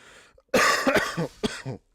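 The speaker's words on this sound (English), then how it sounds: "it's a dry cough at this point" A person coughs several times in quick succession, a harsh dry burst of close, loud coughs lasting about a second after a moment of quiet.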